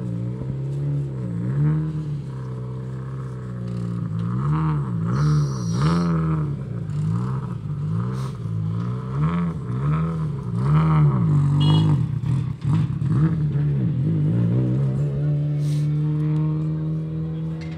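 A rally car pulls out of the service pits at the 100 Acre Wood Rally, its engine revving through repeated rising and falling gear changes, loud and close, with clattering and faint talk around it.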